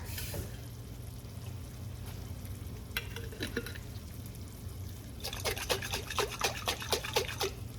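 Water goes into a hot pan of meat sauce for low-carb lasagna, giving a soft bubbling sizzle and trickle, followed by a rapid run of spoon clicks and scrapes as the sauce is stirred.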